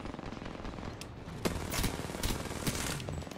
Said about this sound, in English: I'm running through the gunfire.